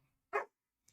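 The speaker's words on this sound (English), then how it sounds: "and there goes the dog" A single sharp dog bark bursts out loud and close, followed by a brief faint yip a moment later, with near silence around it.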